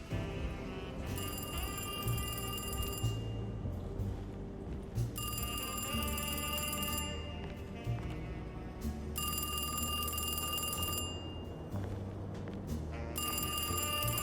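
An old-style telephone bell rings in the Alone in the Dark game, loud trilling bursts of about two seconds each separated by short pauses, repeating four times over a low background hum.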